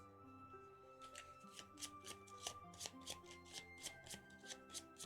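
Playing cards from the Lord of the Rings card game are riffled and shuffled close by, a steady rhythmic series of crisp fluttering bursts about five seconds long over a faint background hum.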